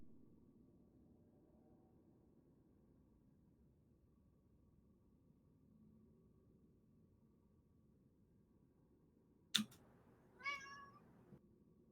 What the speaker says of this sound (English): Cat's got to break up the silence